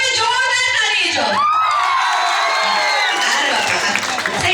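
A crowd at a Durga Puja committee gathering in Ambuaposi, Keonjhar erupts in loud applause mixed with shrill children's shouts and whoops, a dense, close, sustained wall of cheering and clapping.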